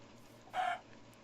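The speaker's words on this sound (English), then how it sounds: "More chickens." A single chicken clucks once in Minecraft, a short, faint cluck heard over a quiet background.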